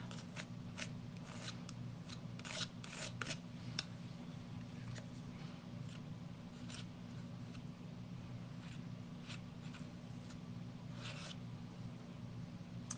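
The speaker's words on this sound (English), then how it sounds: "scrape off the excess" Excess paint is scraped off a stencil during snowflake stenciling. Soft, irregular scratchy strokes repeat quietly and close over a low background hum, with no talking.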